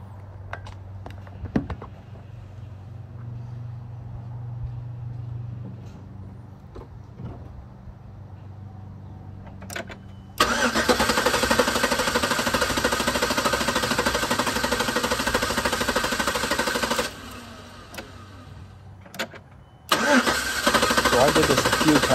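A Chevrolet Tahoe engine running on woodgas cranks loudly in two long bursts, with a short pause between them, after quieter handling noise and brief talk.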